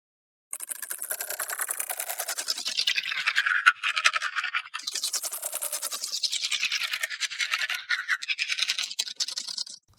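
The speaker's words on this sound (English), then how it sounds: "Some great chittering sounds." Designed creature chittering effect built from recorded voice sounds run through granular processing, a rapid, dense, high-pitched scratchy chatter in continuous waves for nearly ten seconds, alone and fairly loud.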